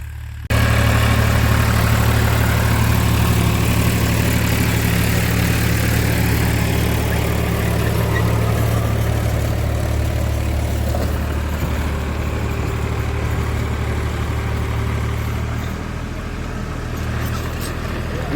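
A tractor engine idles steadily in a farm field, a loud, continuous low rumble that barely changes for the whole stretch before easing slightly near the end, with no voices over it.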